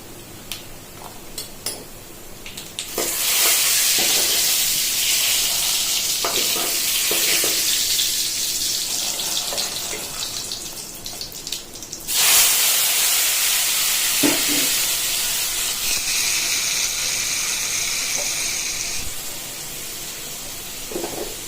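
Spice tempering for Nellore-style pappucharu dal soup sizzling loudly in hot oil, a steady hiss that swells when more is added and then settles, with faint clinks of a spoon.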